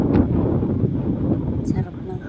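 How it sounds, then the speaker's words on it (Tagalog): Strong night wind buffets the microphone at a harbour, a dense low rushing roar that continues steadily throughout. "Ang lakas ng hangin."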